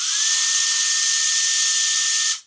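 A WOLFBOX MF100 handheld turbo fan whines at its highest setting with a loud, steady high-pitched rush of air and a thin tone, then cuts off abruptly.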